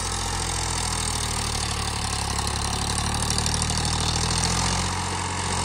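Powertrac 434 DS Plus 39 hp tractor engine running under load in fourth gear, a loud, steady diesel drone with a low throbbing hum, close to the microphone, without speech.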